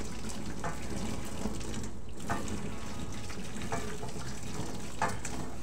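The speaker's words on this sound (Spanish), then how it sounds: "Botar esta agua." Soaking water is poured off chinapopos beans in a kitchen, giving a soft, steady trickling stream with a few brief splashes, fairly close and quiet, with no talking.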